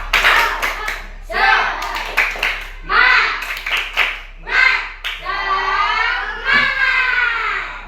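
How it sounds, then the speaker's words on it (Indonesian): Children in a classroom doing a rhythmic spirit clap, sharp bursts of group clapping alternating with chanted young voices, ending in loud cheering. "Kita tepuk semangat dulu biar semangatnya keluar ya"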